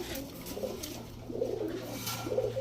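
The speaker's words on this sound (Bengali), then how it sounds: "এখন দেখাবো একটা ল্যাভেন্ডার কালারের রেসার কবুতর" A lavender racer pigeon coos in several soft, rolling bursts against a steady low hum and background hiss, the coos coming in short clusters at moderate distance.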